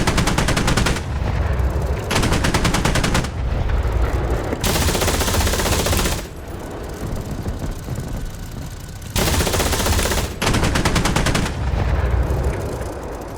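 Aircraft nose cannon firing in a flight simulator game, loud rapid bursts of automatic fire in several separate strings, each a few seconds long, with short gaps of quieter engine drone between them.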